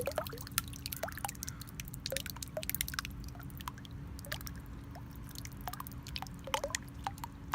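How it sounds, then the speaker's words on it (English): Water in a jacuzzi bubbles and drips in scattered, irregular plops and pops over a steady low hum, fairly close and moderately quiet, with no talking. "So this jacuzzi does have bubbles, but I didn't want them to be too loud."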